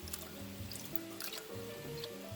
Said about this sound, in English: and then I'm going to pour in the rest of this